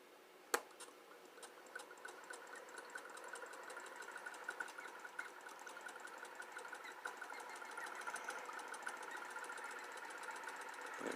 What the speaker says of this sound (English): now what I'll do is I'll just turn on the Newman motor